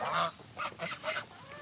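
A large goose honking, with four loud harsh honks in quick succession, heard near and clear over a faint background hiss.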